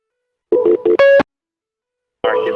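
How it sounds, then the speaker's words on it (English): Electronic tones from a call-in show's phone system: a short pair of beeps, then a brighter, louder tone, a second of silence, and another buzzy ringing tone starting near the end. No talking. "I'm not understanding where this ringing is coming from because it's like horrible."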